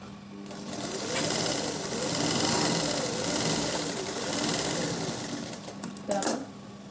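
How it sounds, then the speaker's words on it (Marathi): A sewing machine stitches a blouse seam in quick, whirring bursts that swell and ease for several seconds, stopping briefly before a short final run, with faint speech nearby. "आपल्याला ही बाजू थोडीशी मारून घ्यायची म्हणजे टीप मारून घ्यायची"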